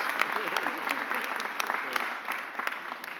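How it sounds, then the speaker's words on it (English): Applause from an audience at a mayor's press conference for a councilmember, a short round of moderate clapping with voices audible underneath. "Give a round of applause to Councilmember Anthony Phillips."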